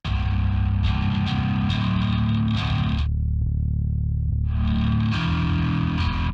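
Bass guitar played through a Laney Digbeth amp plugin with its blend knob changing the tone, a distorted, effect-heavy line that drops to a thin low rumble midway before the full gritty sound returns.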